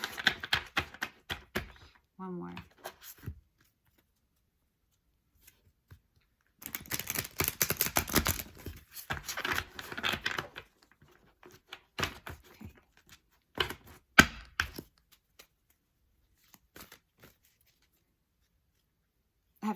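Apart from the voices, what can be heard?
shuffling a thick deck of tarot cards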